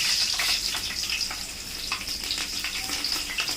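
Cinnamon, cloves, cardamom and green chillies frying in hot oil for mutton biryani, a continuous bright sizzle with small crackling pops, fairly close and steady throughout.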